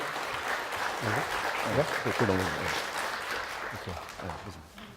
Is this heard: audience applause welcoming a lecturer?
yes